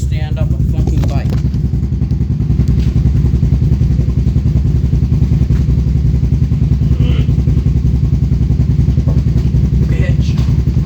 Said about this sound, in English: you guys are gonna have to watch me stand up a fucking bike